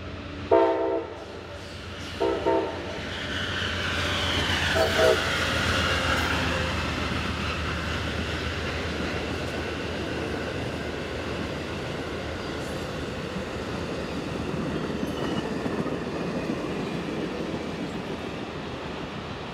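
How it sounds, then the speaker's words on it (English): An Amtrak Silver Star passenger train's horn sounds in a few short blasts near Petersburg, Virginia, then the train roars past with a steady rumbling rush of wheels and wind. "Amtrak's Silver Star Train 92 from Miami and Tampa to New York is racing towards its scheduled stop"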